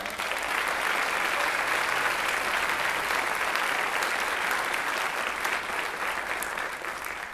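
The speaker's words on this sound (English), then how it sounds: "Please give them a round of applause." A concert audience applauds a school symphonic band, with steady, dense clapping from a full hall that holds level for several seconds and eases slightly at the end, and no talking over it.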